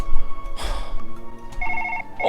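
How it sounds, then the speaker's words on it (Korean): A telephone rings in the surgery game Surgeon Simulator 2013, with short repeated electronic trills partway through, close and loud over game noise and clatter. "전화 왔어 전화 받아야겠네"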